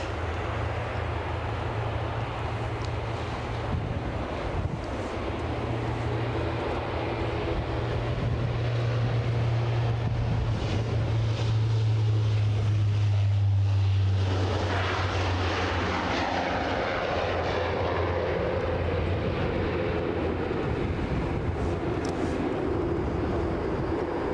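A Widerøe airliner taking off at Aberdeen airport, a loud continuous engine roar and rumble with a droning tone that swells to a peak midway and then slowly fades as the aircraft climbs away.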